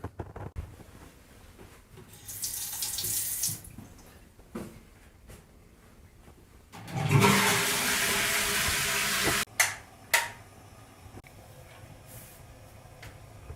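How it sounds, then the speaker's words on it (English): Water runs from the fixtures in a house bathroom in Italy during a home inspection, with two bursts of rushing flow, a short one and then a longer, louder gush, among clunks and quiet gaps. "We ran water at the bathroom fixtures, all the bathroom fixtures."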